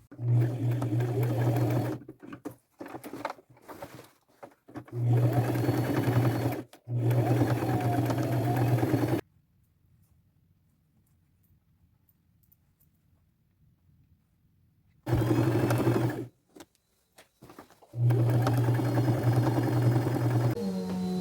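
Sewing machine stitching appliqué flowers onto a fabric bib, loud close bursts of rapid mechanical whirring broken by short stops and a long silent pause midway, no talking.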